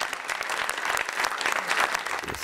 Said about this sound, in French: Je demande de l'applaudir